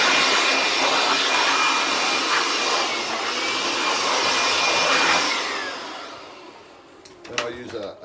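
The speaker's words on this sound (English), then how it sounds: "give it a bit of a blow down with my little blower" A small handheld blower runs steadily as it clears dust off a wood floor before a final coat of hardwax oil, a loud continuous whine that fades out near the end, followed by a few faint knocks.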